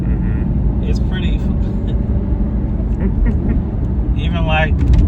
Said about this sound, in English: The rumble of the V8 as you take the RPMs up a little bit, it's pretty.